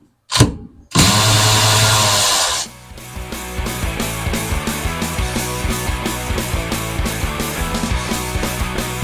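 A power drill or impact tool zips out seat track bracket bolts on a 1966 Chevy C10 during a carpet install, a loud sustained whir followed by a quick run of rhythmic rattling bursts, close and alone.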